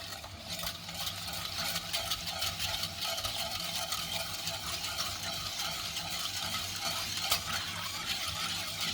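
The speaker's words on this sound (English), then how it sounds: "We'll give that a good stir." Sugar stirred into a batch of tea to dissolve it, a steady close scraping and swishing with faint gritty ticks running continuously for several seconds, with no one talking.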